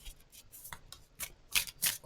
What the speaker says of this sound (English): you can't even see me shuffling the cards